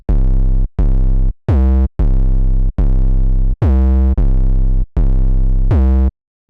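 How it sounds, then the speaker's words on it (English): Serum 808 bass preset called 808 Mom for future bass and trap: eight loud, punchy sub-bass notes in a rhythmic pattern, each with a bright harmonic attack and a short decay, heard alone with no talking. "808 Mom is really hard and it sounds like this."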